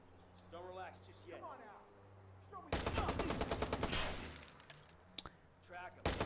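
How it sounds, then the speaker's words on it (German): Sudden machine-gun fire in Watch Dogs, a loud, dense burst of rapid shots lasting a couple of seconds, with someone talking before and after it. "Wer hat da auf mich geschossen?"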